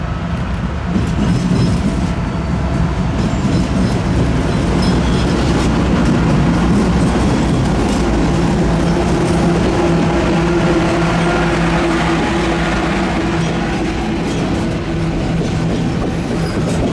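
A BNSF intermodal freight train rolls past in Memphis, a loud continuous roar and rumble of wagons with rhythmic clickety-clack sustained for the whole stretch.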